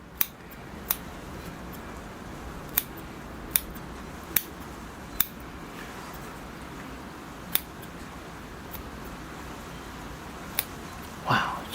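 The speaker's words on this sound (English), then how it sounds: "I'll come in with the scissors and kind of prune some a little shorter" Scissors snipping while pruning bonsai bog forest plants indoors: about a dozen sharp, isolated clicks spaced irregularly over a quiet background hiss, with a slightly louder rustle at the end.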